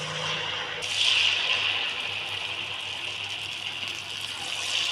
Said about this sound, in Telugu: కొద్దిగా జీలకర్ర ఆయిల్ వేడెక్కాక ఇలా వేసుకోవాలండి